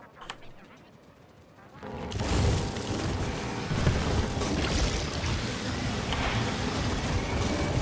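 An explosion in Factorio erupts after a quiet start, with a sudden loud blast that swells into a heavy, sustained roaring rumble and lasts to the end.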